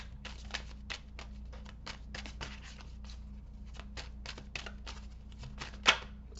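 Rapid, repeated riffling of tarot cards in quick bursts, close by, with a sharper snap near the end and a low steady hum underneath.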